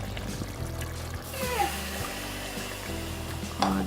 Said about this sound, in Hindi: और साथ में ही मैं इसके अंदर 1 कप पानी ऐड करूंगी